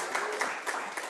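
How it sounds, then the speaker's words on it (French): Steady applause from an audience, a dense wash of many hands clapping at moderate volume. "Sous vos applaudissements quand même"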